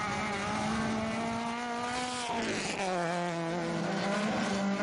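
Suzuki SX4 rally car on a rally stage passing close by, engine loud and rising then dropping in pitch as it goes past, with a brief rush of tire and gravel noise midway, no talk.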